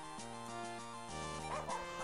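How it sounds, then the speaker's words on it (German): Short yapping barks from a dog in the video game Yu-Gi-Oh Die Heiligen Karten, sounding over steady game music with a tonal melody and a brief flurry near the end. "Da ist ein Hund."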